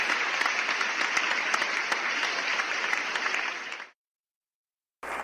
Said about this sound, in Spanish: Denle un aplauso fuerte a nuestro Dios.